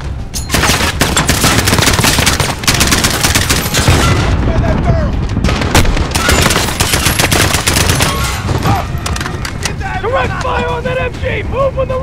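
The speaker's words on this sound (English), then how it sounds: "Get the pressure fire on that MG!" Dense, continuous bursts of machine gun fire in the Call of Duty: Modern Warfare video game, with a loud sustained battle din and shouted voices over it.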